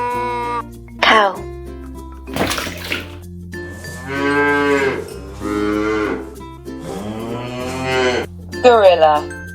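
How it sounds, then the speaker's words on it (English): Cattle moo in a series of long, drawn-out calls, loud and near, several overlapping bellows with pauses between them, over a steady low hum. "Cow."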